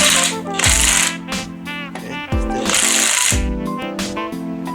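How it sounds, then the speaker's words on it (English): A ratchet or impact-style tool tightens the pinion nut on a Ford 8.8 differential, bursts of rapid mechanical clicking and rattling in two loud close runs with brief pauses between. "So I'm gonna keep running the nut down until that play is completely gone."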